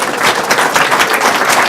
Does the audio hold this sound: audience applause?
yes